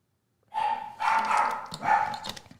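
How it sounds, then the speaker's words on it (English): A pet dog barks indoors during a live stream, giving three loud, close barks in quick succession after a moment of silence, with no talk over them. "Yes, this is live, and that is a dog."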